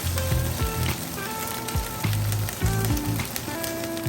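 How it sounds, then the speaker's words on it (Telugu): Ginger garlic paste sizzling and frying in a pan, with a steady dense crackle broken by occasional scraping and stirring knocks, close and moderately loud without talk. "జింజర్ గార్లిక్ పేస్ట్ వేస్తున్నాను. వేసి దీన్ని కూడా బాగా పచ్చివాసన పోయే వరకు వేయించుకుంటాం"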